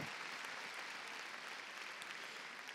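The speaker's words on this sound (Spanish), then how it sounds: "démosle palmas fuertes al Señor" Church congregation clapping during a Sunday evening service, a steady continuous wash of applause at a moderate, somewhat distant level with no pauses.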